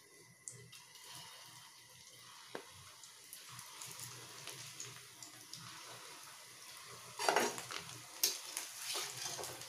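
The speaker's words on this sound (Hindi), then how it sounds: "इस तरह से हमें डीप फ्राई करके सुनहरा होने तक हम तंग कर लेंगे।" Paneer balls deep-fry in oil over a low-medium gas flame, giving a soft, steady sizzle with occasional stirring and utensil clinks. The sound is quiet and continuous, and a few louder scrapes come near the end.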